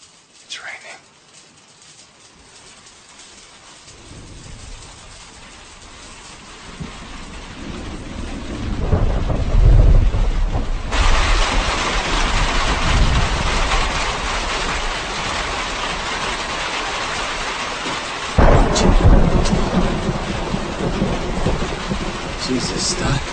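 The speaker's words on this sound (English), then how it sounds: "It's raining." Heavy rain with thunder builds from a quiet start into a loud, steady downpour, with deep rumbling peals and a sharp crack of thunder later on.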